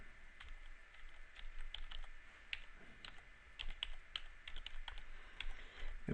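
A computer keyboard clatters quietly and steadily in irregular bursts of keystrokes as a username and password are typed in.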